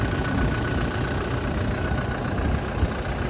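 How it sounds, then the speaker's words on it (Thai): A Toyota Revo pickup truck engine idles continuously, low and even, with a faint irregular knock and no voices. "นี่นะครับ เสียงเครื่องยนต์นะครับ"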